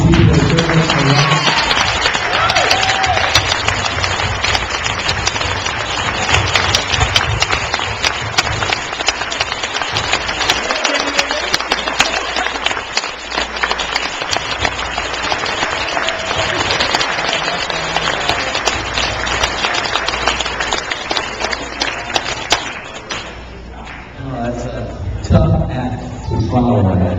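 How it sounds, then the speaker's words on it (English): Guests at a wedding reception give a big, sustained round of applause, dense clapping filling the room for over twenty seconds before tapering off near the end, with voices mixed in. "If all of you would rise and join me in a big round of applause for these people who serve us for life."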